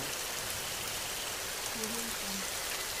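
Steady cartoon rain falls on a flimsy bird's nest, a dense even hiss with no break that stays at a moderate level throughout.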